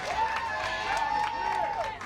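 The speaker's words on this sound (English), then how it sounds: "Everybody give yourselves a round of applause." A rally crowd cheers and applauds steadily for about two seconds, with sustained whoops and voices carrying over dense clapping, loud and continuous throughout.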